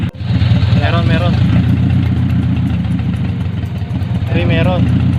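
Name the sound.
Honda CR-V engine idling with a misfire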